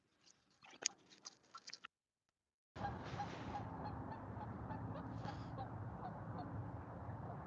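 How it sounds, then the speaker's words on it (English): Geese honk repeatedly out on a frozen lake, the calls fairly close and mixed with a steady wash of outdoor noise, with a brief silent gap near the start. "there's quite a bit of geese that are chilling here on the ice over"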